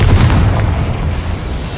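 The Confringo blasting spell from Hogwarts Legacy going off in a loud, close, rumbling blast that fades into a lingering roar.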